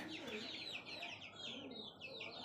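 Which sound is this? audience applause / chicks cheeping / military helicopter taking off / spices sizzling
chicks cheeping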